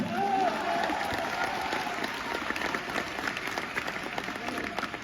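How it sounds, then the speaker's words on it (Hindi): A large audience applauds in Thyagraj Stadium in Delhi, a dense, sustained patter of clapping that fills the space at steady volume. A faint voice briefly sounds over it. "आपके लिए ये आत्मा से, दिल से ताली मार रहे हैं"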